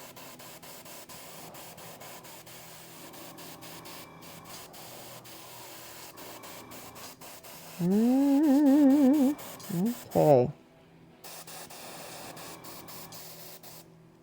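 A steady, hissing spray of paint mists onto a Kingdom Death miniature in a long continuous burst, close and soft, while a voice speaks briefly and a louder tonal sound cuts in near the end.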